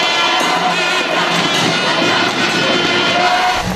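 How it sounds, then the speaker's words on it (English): Singapore fans cheering at a table tennis final of the 27th SEA Games, a loud, dense crowd roar with shouts and whistles, sustained throughout without a break. "Lots of cheering from the Singapore fans."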